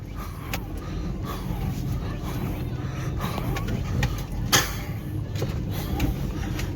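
A Suzuki Baleno 1.2 Alpha hatchback crawling along an off-road dirt track, its engine humming steadily from inside the cabin with rattles and knocks from the rough ground. There is one sharper thump partway through.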